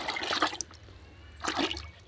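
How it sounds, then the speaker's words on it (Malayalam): Fermented rice water is poured into a mixture for fertilizer, two short splashing gushes of liquid separated by a quiet pause, close and fairly loud. "ഇത് പുളിപ്പിച്ച കഞ്ഞിവെള്ളമാണ് ഇത് കൂടെ ഒഴിക്കുക"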